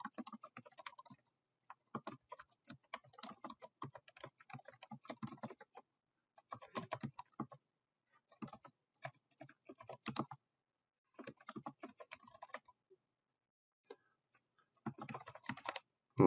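Fingers type on a computer keyboard in quick bursts of clicking keys, pausing briefly between words and phrases, quiet and close with no talking.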